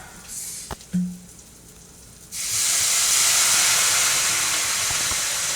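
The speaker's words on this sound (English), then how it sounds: "Let's deglaze that with a little white wine." Toasted risotto rice is deglazed with white wine in a hot pan. After a couple of quiet seconds and a small clunk, a loud steady hiss bursts up and holds at close range with no voices.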